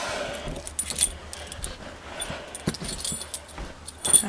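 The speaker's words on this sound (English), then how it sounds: "Let me get the keys out of the thing." A bunch of keys jingles and clinks at close range in a school, with scattered metallic rattles coming in irregular bursts throughout.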